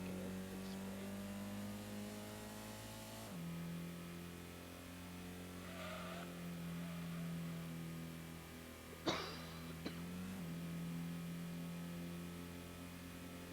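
A Honda Civic EK SiR with a VTEC engine revs in the racing game Gran Turismo 1. The steady engine whine climbs and drops in pitch over a long stretch, with a couple of brief knocks partway through.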